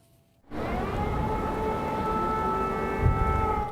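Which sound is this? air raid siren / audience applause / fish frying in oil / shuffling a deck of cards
air raid siren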